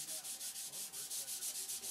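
A model airplane being sanded by hand: quick, steady back-and-forth rasping strokes, about six per second, close and fairly loud with no voices.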